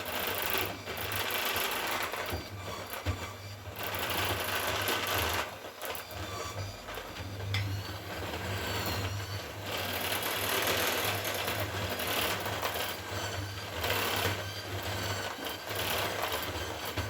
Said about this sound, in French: maintenant, je vais mélanger avec mon batteur